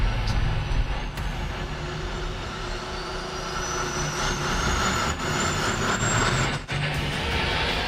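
A racing semi truck pulls away uphill at a big rig practice run, its engine roaring loud and close with a rising whine of revs and a couple of brief drops as gears change, no voices heard.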